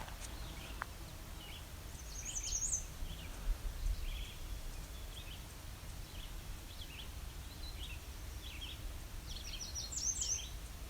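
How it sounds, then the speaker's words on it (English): Two short, high American redstart songs, one early and one near the end, faint against steady outdoor background noise. "I think it's an American redstart"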